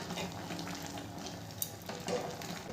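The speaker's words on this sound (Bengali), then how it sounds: "ভালো করে নেড়ে দেব।" Bottle gourd greens with bori fry softly in a pan while being stirred, giving a faint, steady sizzle with a few light scrapes, quiet and without speech.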